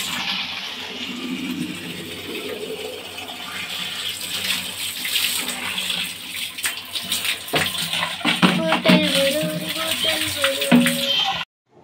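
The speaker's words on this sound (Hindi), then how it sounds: "मोटर चालू कर और यहाँ से पानी आएगा एकदम पास।" Water gushing from a household motor pump, a continuous splashing rush close by that grows busier and louder before cutting off abruptly, with voices talking over it.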